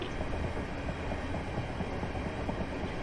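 A Class 375 electric train with third-rail and overhead-wire capability runs on the line from London Victoria to Ramsgate, giving a steady, continuous rumble of wheels on rails throughout, with no voices.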